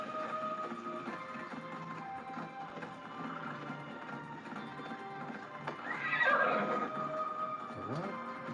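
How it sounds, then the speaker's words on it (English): A horse in a PS5 video game whinnies with a rising and falling neigh, and its hooves clip-clop quietly under a faint music bed. The whole scene sounds soft and fairly distant. "It's better to ride a horse."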